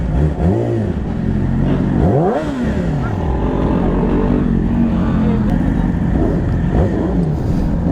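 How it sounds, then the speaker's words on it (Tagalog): A blue Yamaha R6 sport bike on a racetrack, its engine revving up and down in sweeping rises and falls and holding a loud steady drone close by, while someone talks over it. "First time ko makapag-drive ng R6 sa loob ng racetrack."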